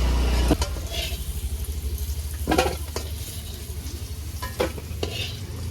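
Potatoes frying in a pan over an outdoor wood fire at a winter night picnic, with steady close sizzling and a few sharper bursts of spatter and stirring scrapes.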